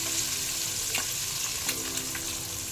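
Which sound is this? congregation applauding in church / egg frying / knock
egg frying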